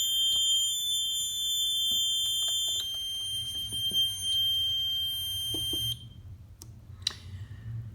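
An ATSE/Chubb Activa 128 addressable fire alarm panel sounds a steady high electronic alarm tone, broken by soft clicks and handling noise, then stops abruptly and leaves a faint room hum and a single click.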